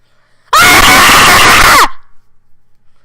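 A person lets out one loud, sustained scream lasting over a second, starting abruptly and then cutting off into near silence.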